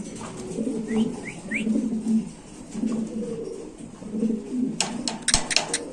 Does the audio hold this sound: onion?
no